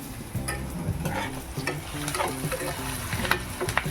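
Onions frying in oil in a pan until browned, a constant close sizzle with frequent scraping and clacking stirs of a spatula, no voices.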